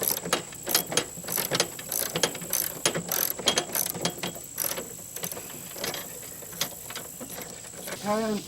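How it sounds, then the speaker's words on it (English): Screws come out from under the seat of a John Deere riding mower, heard as close, crisp ratcheting clicks in short repeated bursts with brief pauses between turns. "I slid the seat forward and I'm going to take these screws out here."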